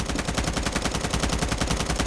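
Rapid automatic gunfire in a video game shooter, a steady stream of evenly spaced loud shots running throughout without pause.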